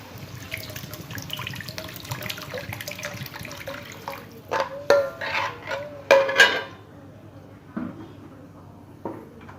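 Plain water is poured into a pot of stock from a tap, giving a running, splashing stream with several louder gushes and clanks midway, then quieter drips and knocks.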